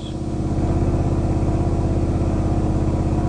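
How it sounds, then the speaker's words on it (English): In Destruction Derby 2, a crash-racing video game, a pack of car engines starts up and settles into a loud, steady rumbling drone. The throbbing is fast and regular, with no voices. "Start your engines."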